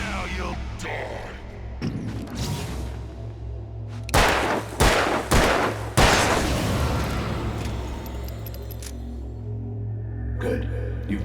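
Gunfire in the Alan Wake video game, a cluster of several loud, sharp shots in quick succession, with a few scattered shots and quieter background sound before and after.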